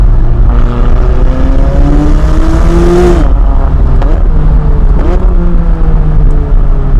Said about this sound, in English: Brutal acceleration.